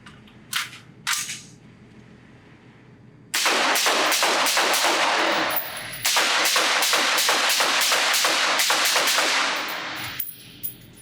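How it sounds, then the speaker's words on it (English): A firearm fitted with a scope and XS Sights XTI2 45-degree offset iron sights fires at targets on a shooting range: two isolated sharp reports, then a rapid string of more than a dozen loud, closely spaced shots. "I'm going to shoot first using the scope at a target on the left"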